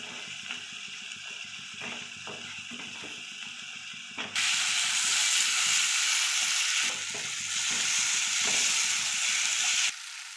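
Turmeric, cumin, coriander, chilli powder and salt fry in a pan for an egg dish. Soft scraping stirs come first, then a loud, steady hiss of sizzling oil bursts in and keeps going, with occasional stirring clatter.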